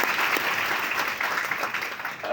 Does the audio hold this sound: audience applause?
yes